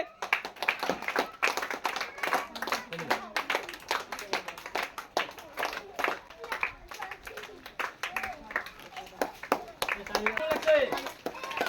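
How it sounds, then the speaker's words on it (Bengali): Audience applause for a ball colour-sorting prize contest, with many sharp claps rattling steadily throughout at moderate level while a voice talks over it. "হাততালি হবে"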